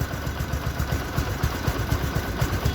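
A Bajaj Discover 125 motorcycle idles nearby, its engine thumping in an even, rapid low putter that holds steady throughout with no voices.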